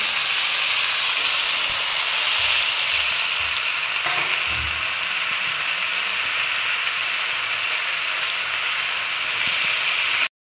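Desi spinach frying in a hot pan, a steady loud broadband sizzle and hiss running unbroken for about ten seconds, with a faint stir or clatter near the four-second mark and no talking.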